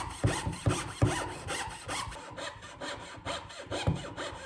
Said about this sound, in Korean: 어설픈 뉴비 마냥 나무를 썰어줍니다.